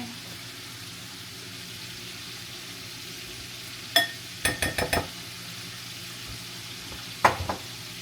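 Copycat Popeye's chicken wings sizzle steadily in oil in a pan, a soft continuous frying hiss under short sharp clatters and taps of a utensil as the wings are flipped, in two bursts of clinks.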